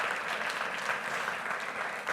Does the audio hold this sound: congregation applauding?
yes